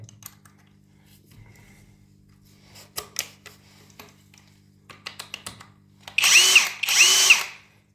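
A DeWalt 850 impact driver bought from AliExpress, fitted with an ordinary bit, driving screws into a board: faint clicks and handling taps, then two loud, close bursts of the driver running, each roughly a second long.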